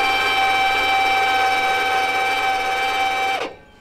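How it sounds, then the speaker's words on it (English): A trailer tongue jack being extended, likely power-driven, gives a loud, steady motor whine with a fixed pitch that runs unbroken for over three seconds, then quickly winds down and stops. "This is your tongue jack, and you want to extend the jack to raise this up."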